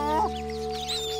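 A cartoon chicken gives a short burst of clucking, loud and close, over a steady musical background in an animated children's show.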